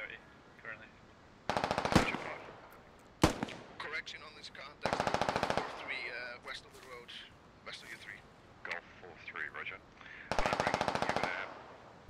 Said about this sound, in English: Got an AR opening fire.